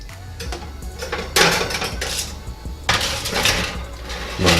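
Foil-lined baking pan of boneless wings clattering and scraping as it slides into a NuWave Bravo XL smart oven air fryer, two bursts of metallic rattle close up with handling noise between.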